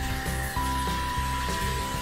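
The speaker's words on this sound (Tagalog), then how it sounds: "Hair dryer." A hotel hair dryer runs continuously up close, a steady whirring blower hum with a high whine and slight pulsing, no voices over it.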